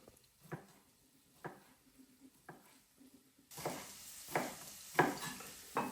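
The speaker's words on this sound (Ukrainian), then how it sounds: "Не забуваємо, що у нас смажиться цибулька." Soft crackling sizzle of diced onions frying in a pan for shakshuka, with occasional scrapes and stirs that grow louder and busier toward the end.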